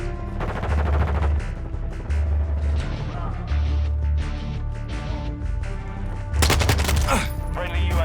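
Heavy automatic gunfire from a Modern Warfare 2 multiplayer match on PC comes in loud, dense bursts that repeat through the stretch, mixed with other battle noise.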